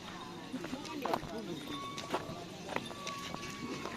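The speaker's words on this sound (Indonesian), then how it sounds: "Ada sapi yang mau dilepas ya guys." Bulls race at a Madurese karapan sapi practice on the Asemanis field in Pamekasan, their hoofbeats thudding in an irregular run under nearly constant talking.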